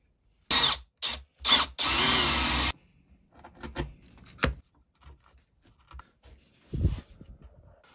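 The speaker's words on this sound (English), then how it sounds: "Do the mortises for this bit." A power tool cuts mortises in wood for a small birdhouse, starting with three short loud bursts and then a sustained two-second run. Quiet scraping and knocking of handling follow, with one last brief burst near the end.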